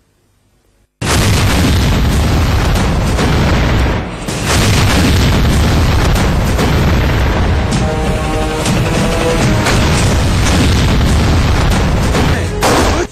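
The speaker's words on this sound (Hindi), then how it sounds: "नापाक दुश्मनों को मटियामेट करने का ये धमाके वाला मंजर वैसे तो फिल्मी है" A sudden loud explosion bursts in after a second of quiet, followed by a sustained roaring blast and rumbling that fills the rest of the clip.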